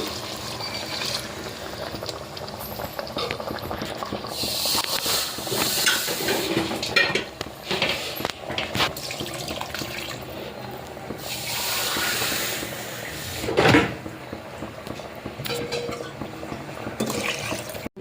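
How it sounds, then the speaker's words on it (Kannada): Several cups of water poured steadily into a cooking pot for hotel-style tomato bath, a continuous splashing, filling rush with some clatter, close and fairly loud, no talk. "ಇದರಲ್ಲಿ 3 ಲೋಟ ಹಾಕಿದ್ರೆ 5 ಲೋಟ ನೀರು ಹಾಕ್ಕೊಳ್ತೀನಿ."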